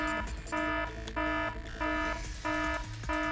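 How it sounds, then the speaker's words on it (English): A base security alarm in the video game Baldr Force blares in repeating electronic buzzer bursts, each tone about a third of a second long and separated by short gaps, loud and steady. "I feel some relief when the alarm finally goes off."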